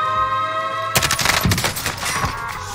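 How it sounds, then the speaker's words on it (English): Burst of automatic gunfire in a Warzone (Modern Warfare) battle royale match, likely including an MP7 submachine gun, opening with a sharp volley followed by scattered repeated shots, loud and close, with no talk. "Under fire. I'm taking fire!"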